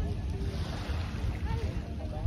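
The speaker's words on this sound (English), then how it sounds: "Long tails, which are basically wooden boats with big long outboard kind of tractor motors attached to them." Motor boats and wind noise on open sea water off Thailand, with wooden long-tail boats and their big outboard tractor-style engines whizzing around; a steady low rumble with faint tonal whines under wind buffeting on the microphone.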